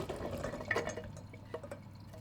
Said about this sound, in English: I've just drained the chickpeas and the brown lentils.